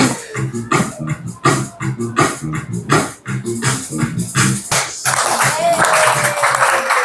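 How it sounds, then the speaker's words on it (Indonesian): A classroom of students claps hands together in a rhythmic ice-breaking pattern, bursts of clapping in repeated groups, with a voice speaking briefly and a sliding tone near the end. "Tepuk tangan untuk kita semuanya."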